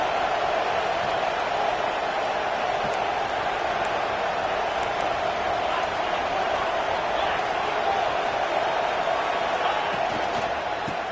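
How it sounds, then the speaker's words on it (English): A football stadium crowd cheers at a college game, a steady, dense roar of many voices filling the background while a commentator talks over it. "And the crowd coming to life here, trying to help this defense down in the red zone."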